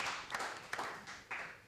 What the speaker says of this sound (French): Alors, on va d'abord les applaudir.